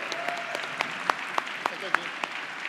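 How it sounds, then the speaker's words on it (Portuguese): A small audience at a Bahian food and culture talk claps again, a thin spread of hands with several sharp, distinct individual claps standing out over quieter background clapping. "uma salva de palmas novamente, Tuca Mesono"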